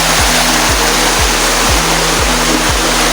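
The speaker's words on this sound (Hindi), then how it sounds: "ये ऊपर वाला पानी आबशार से, यानी कि आबशार का पानी है, पहाड़ों से निकल के आ रहा है।" A natural mountain waterfall pours down from the hills, a loud, steady rush of water filling the scene with broadband roar and no voices.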